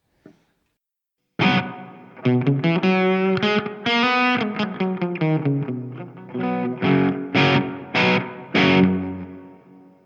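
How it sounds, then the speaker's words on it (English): Distorted electric guitar notes and chords through a Marshall MG100HCFX amp ring out with a wide, lingering digital reverb tail on an extreme setting, played alone at a steady moderate pace. "If I try some of the more studio, like the digital reverb, basically."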